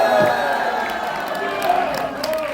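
Crowd at a Korean political gathering clapping and cheering loudly, with shouts and tonal voices mixed over the applause for a couple of seconds.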